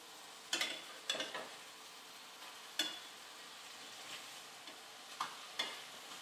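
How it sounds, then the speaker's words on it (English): Turkey burgers sizzling in a pan on the stove, with a few sharp spatula scrapes and clacks as the patties are flipped, spaced out over a steady low fry hiss. "just take your spatula here, get these things flipped over"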